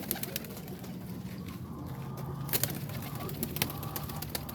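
Young pigeons coo from a loft while they are being trap-trained, with soft repeated low coos close by and a few sharp clicks and flutters mixed in, over a steady background.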